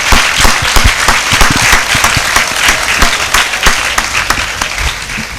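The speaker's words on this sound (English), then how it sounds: "Let us give a very big applause to him." Loud, dense applause from a large audience at a university gold medal function, sustained clapping from many hands filling the hall evenly and fading slightly toward the end.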